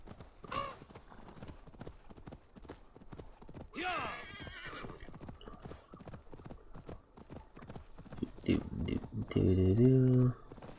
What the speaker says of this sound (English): Just the other horse is just chilling.